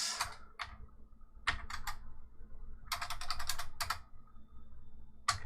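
Bursts of computer keyboard typing as a Linux update command is entered, quick clustered keystrokes separated by short pauses, close and clear over a quiet background.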